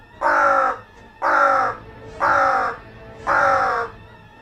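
Four loud, harsh crow caws in an even rhythm, each about half a second long with short pauses between, close by and clear.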